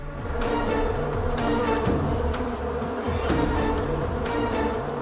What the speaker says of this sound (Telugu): మీరు పంపిన తేనెటీగలు మన వైపే వస్తున్నాయి.